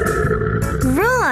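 A voice imitates a lion's roar in a children's animal-sounds lesson, a short rising-falling growl at the end of a brief spoken moment, close and loud.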